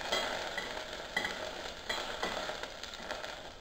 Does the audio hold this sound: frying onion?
yes